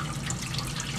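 Tap water running steadily into a pot for cooking rice, a continuous hissing stream filling the vessel at close range with no talk.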